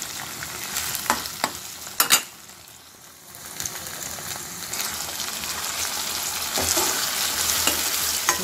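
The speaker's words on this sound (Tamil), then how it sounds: "தக்காளி வந்து கொஞ்சம் வதங்கட்டும்" Tomatoes fry in a pan for a prawn and ridge gourd side dish, with a steady sizzle and a few clanking stirs of a spoon against the pan, close and fairly loud.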